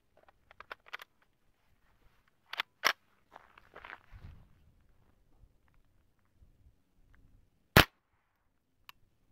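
A Ruger 10/22 Takedown .22LR rifle fires outdoors at a field test. There are a few sharp, fairly quiet cracks, with one strong shot near the end, between light handling noises and footsteps.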